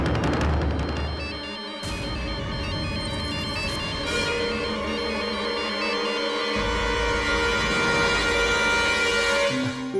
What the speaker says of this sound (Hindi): बेटा फोन अटेंड कर लो, काम बाद में कर लेना।